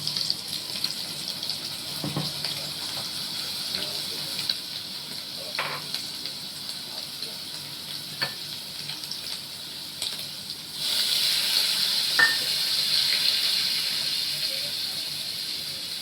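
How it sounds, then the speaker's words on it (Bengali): Tap water hisses steadily into a bowl being rinsed in a kitchen, with a few soft clinks of handling, and the flow grows louder partway through. "বাটিটা ধুয়ে আমি জলটা দিয়ে দেবো।"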